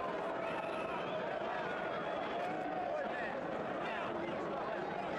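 A boxing arena crowd murmurs before a fight, a steady broad babble of many voices with faint calls rising now and then, all at a moderate, even level.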